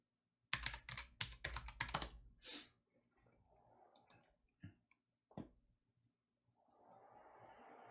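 Rapid clatter of keys on a computer keyboard, a dense burst of close typing for about two seconds, then a few scattered isolated key clicks amid quiet room hiss.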